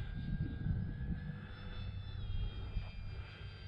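E-flite Corsair RC model airplane flying in windy conditions, a faint steady motor whine with slowly shifting pitch heard from a distance over outdoor wind rumble.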